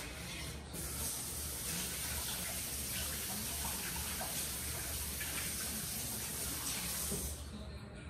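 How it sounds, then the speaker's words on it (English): Tap water runs steadily over a hand for about eight seconds, a continuous close hiss and splash with no talking, while Italian zeppole and sfingi are being shaped in a home kitchen. "Okay, so I'm gonna rinse my hand again."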